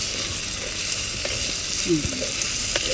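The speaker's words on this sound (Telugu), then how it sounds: "ఇప్పుడు ఈ ఉల్లిపాయ పచ్చిమిరపకాయ కరివేపాకు వేసుకున్నాం" Onion, green chili and curry leaves fry in a pan for brinjal, mango and dry fish curry, giving a steady close sizzle with a few faint stirring scrapes.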